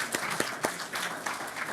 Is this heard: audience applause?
yes